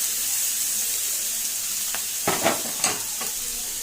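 Tomato sizzling in a hot pan for chicken keema, a steady frying hiss with a few clinking stirs of the spoon near the end.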